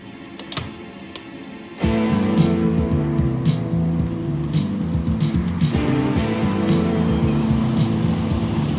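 A car whose brakes have failed pulls up close by, its engine cutting in abruptly and then droning as a loud, steady rumble with light clicks on top and no talk.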